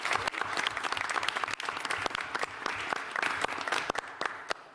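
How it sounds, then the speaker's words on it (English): Dense, lively audience applause for a graduate at a city graduation-rate event, many hands clapping in a continuous crisp patter that stays strong throughout. "Let's give her a round of applause."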